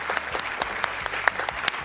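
An audience gives a short burst of applause for a singer, with scattered claps and a few sharper individual hits, moderately loud and continuous throughout.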